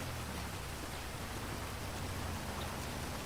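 Steady rain falls in the video game GTA 5, a constant, even hiss of drops with a low rumble underneath, heard alone at a fairly soft level throughout.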